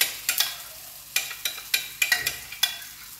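Saltfish fritters frying in a pan, with sharp intermittent clicks and scrapes from a utensil stirring or turning them over a faint background sizzle, close and moderately quiet.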